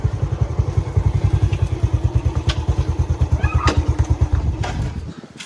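A motorcycle engine idles close by with a fast, even chugging pulse and some clatter as the bike is parked, then the engine cuts off near the end, leaving quiet.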